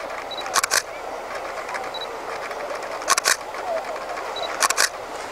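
A budget entry-level DSLR camera fires its shutter three times at roughly even intervals, each a crisp double clack, close and loud over a quiet room hiss, with faint beeps before each shot.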